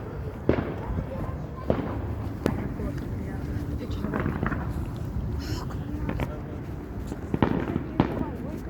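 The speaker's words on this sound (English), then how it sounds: "You can hear the fireworks because they just now started." Fireworks at an outdoor riverfest crack and boom in scattered, distant bursts, about half a dozen sharp reports spread over several seconds, with crowd murmur and faint voices underneath.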